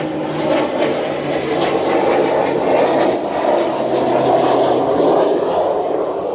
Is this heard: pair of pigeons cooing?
no